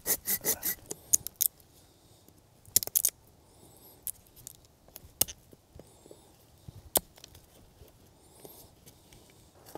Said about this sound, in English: we're gonna cut a notch, like a log cabin notch,